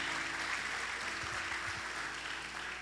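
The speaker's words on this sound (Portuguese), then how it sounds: "Dê um aplauso a Ele com alegria." A church congregation claps in praise of God during a worship conference service, a steady wash of applause filling the room with some low voices and hum underneath, fairly distant and even throughout.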